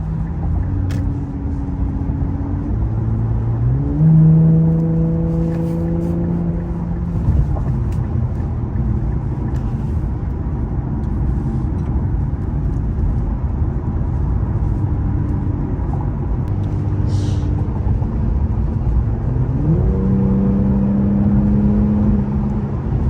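A modded Infiniti Q50 fitted with downpipes and intakes drives along, its engine note rising and falling through gear changes over a steady road rumble, heard from inside the car with no talk.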